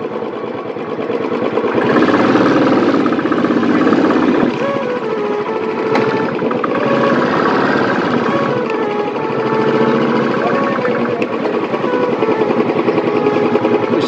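A motorcycle engine idles loudly and close at a hotel entrance, a steady throbbing drone that holds throughout with slight swells.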